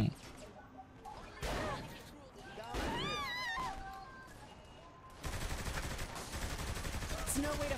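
Gunfire in the open-world crime game Saints Row: The Third, with sharp shots and bursts of automatic fire building to a dense, continuous volley toward the end, mixed with excited shouting voices.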